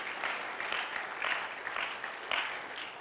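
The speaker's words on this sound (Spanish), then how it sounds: "¿Puedes darle un aplauso de alabanza a Él?" A church congregation gives sustained applause of praise, a dense steady clatter of many hands filling the room for a few seconds without anyone speaking.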